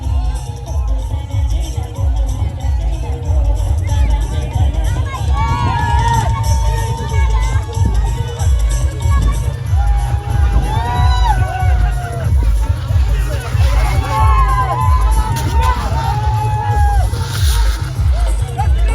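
A crowd cheering and shouting during a Holi procession in Apta Koliwada, bringing the Holi tree through hills, with a steady pounding drum beat, whoops and chatter throughout.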